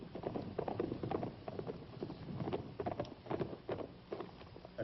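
Horse hooves clip-clopping as riders draw near, a steady rhythmic clatter at moderate distance, fairly loud throughout with some background noise and no talk.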